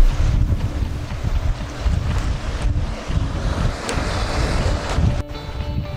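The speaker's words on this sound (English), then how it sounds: "catch some small waves breaking over the rocks" Sea waves breaking over rocks at Hook Head beside the lighthouse, a continuous rough wash of surf with heavy wind buffeting the microphone and a few sharper splashes.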